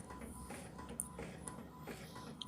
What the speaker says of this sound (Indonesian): Di sini saya menggunakan printer Epson L3110 ya, dengan tinta original atau tinta dye.